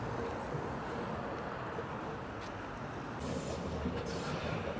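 Hamburg U-Bahn subway train near the harbour, a steady loud rumble and rolling rail noise that fills the whole stretch without letup, heard close as if from on board or beside the track.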